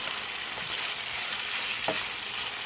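Ground beef frying in oil for bulgogi gives a steady, close sizzle and hiss that runs unbroken throughout, with a faint stir or scrape near the end and no talking.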